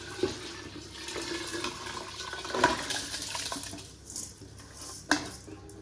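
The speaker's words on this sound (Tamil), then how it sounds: "அரிசியும் தண்ணியும் சேர்த்துக்கலாம்" Rice and water going into a cooking pot for fish biryani, with a wet pour and splash, a few metal clinks against the pot, and kitchen clatter close by.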